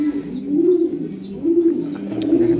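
Racing pigeons coo close by in a pair, their soft, rolling calls repeating about three times in a steady rhythm over light background noise.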